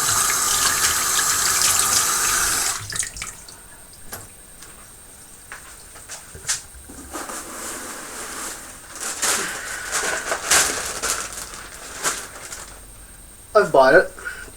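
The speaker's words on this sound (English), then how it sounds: "Let me just wash my hands out here." Hands are washed under a running outdoor tap, a loud gush of water at first, then quieter splashing and handling noises, with a person's voice briefly at the end.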